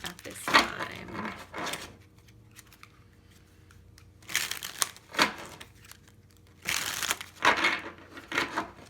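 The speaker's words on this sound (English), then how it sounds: "I know I was in the middle of shuffling" A deck of tarot cards is shuffled close up in bursts of crisp riffling and flicking, separated by quiet pauses, with a faint voice in places.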